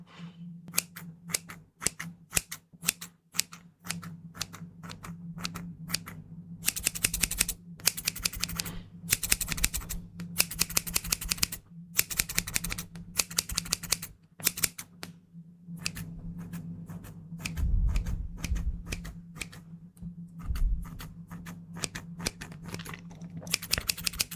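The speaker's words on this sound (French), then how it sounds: "Donc on va passer sur des ciseaux." Maped scissors snip close to the microphone for an ASMR trigger, crisp repeated cuts in irregular bursts, some quick and clustered, some slower, with short pauses between.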